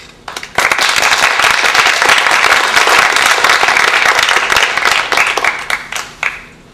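A concert audience applauds, a dense wave of clapping that swells quickly, holds steady, then thins out to a few scattered claps.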